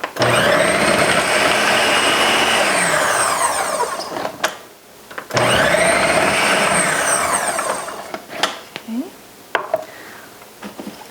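An electric food processor slicing zucchini whirs loudly in two long runs with a short pause between them, the motor pitch dropping as each run winds down, followed by faint clicks and handling sounds.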